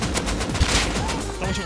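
Gunfire in the video game Rust rings out as a quick burst of shots over about a second and a half, loud and close, amid constant game noise.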